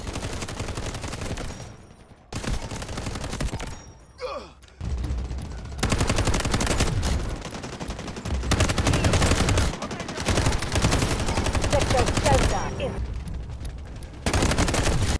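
Rifle fire in the video game Delta Force, rapid bursts of loud automatic gunshots in dense sustained strings broken by brief pauses, with a voice talking intermittently over the shooting.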